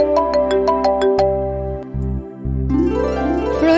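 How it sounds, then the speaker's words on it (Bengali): A phone ringtone plays a loud, melodic electronic tune with a rhythmic pulsing opening, repeating phrases and rising notes, heard alone without speech. "রোহিণী দিদি ফোন করছে।"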